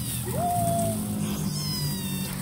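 A kitten cries out from tall grass with a rising, drawn-out meow, then a thinner, higher second meow, both clear and fairly close against a steady outdoor background hum.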